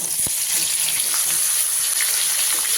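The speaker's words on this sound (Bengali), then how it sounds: "এবারে ওই আলু ভাজার তেলের মধ্যে দিয়ে দিচ্ছি কেটে রাখা বেগুনগুলো" Cut eggplant pieces fry in hot oil left over from frying potatoes, giving a steady, close, loud sizzle that continues without a break and carries no talk.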